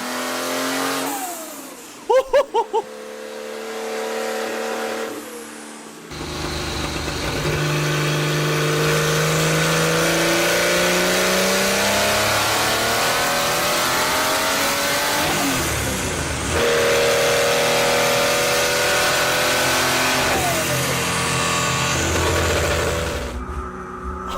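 A Porsche 935K race car engine on a dyno roars loudly and steadily, rising and falling in pitch as it revs hard, with a brief sputter before the sustained howl.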